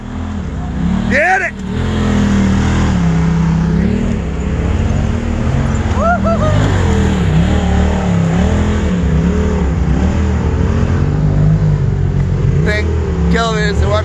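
A four-seater off-road vehicle drives a forest trail, its engine droning loud and close with rising and falling revs as it climbs and bumps along, while a person shouts briefly over the noise.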